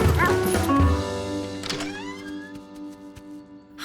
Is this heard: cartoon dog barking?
yes